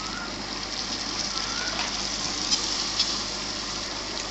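Tomatoes frying in onion and ginger-garlic paste for chicken curry, cooked village style: a steady, even sizzle close by, with a couple of faint pops and no talking.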